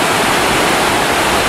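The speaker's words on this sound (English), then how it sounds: "See all that water rushing out of there?" Glacial meltwater river rushing out of a cavern at the base of a glacier: a loud, steady, close roar of churning water with no pauses and no voices.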